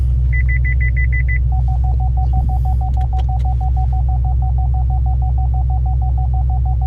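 Chevy SS parking sensors beeping while the car is in reverse, a rapid high beep pattern that switches to a steadier, lower repeating beep over a low engine idle rumble.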